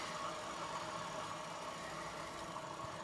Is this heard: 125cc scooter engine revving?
yes